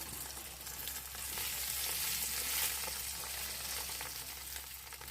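Fish pieces laid on banana leaves cook in a covered pan without oil, giving a steady, fairly faint hiss of sizzling with a low background hum and no voices.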